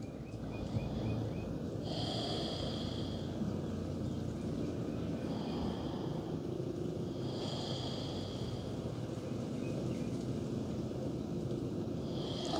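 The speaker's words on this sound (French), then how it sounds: "Encore 2 longues inspirations, 2 longues expirations." Slow, deep breathing during a yoga session, with long inhales and exhales in a steady rhythm, close to the microphone, heard alone with soft background noise.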